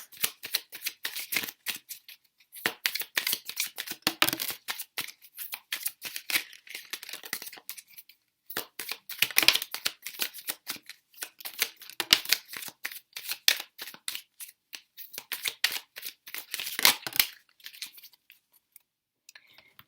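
Tarot cards being shuffled in repeated bursts of crisp riffling and sliding, close and fairly quiet, with short pauses between rounds and a quiet stretch at the end.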